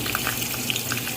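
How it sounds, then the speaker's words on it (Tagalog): Garlic frying in hot oil in a pan, a steady close crackling sizzle with small pops and no talk over it. "naglagay na ako ng oil and lagay natin yung garlic"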